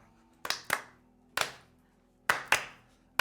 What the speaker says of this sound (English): I don't know why we're clapping